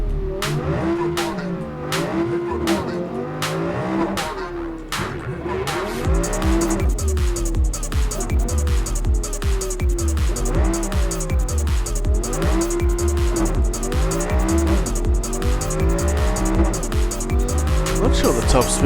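A Quadra-like car in the Cyberpunk 2077 video game drives hard, with engine roar, repeated tire squeals and skids, and rising revs, loud and sustained throughout.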